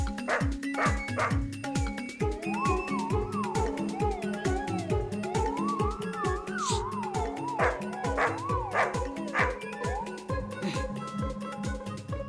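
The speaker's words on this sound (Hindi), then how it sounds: "पीछे से कुत्तों की आवाज आ रही थी।" Dogs bark in a fast, steady series of yips and bow-wows, with whimpering howls in between. They sound close and continuous over a wavering melodic tone.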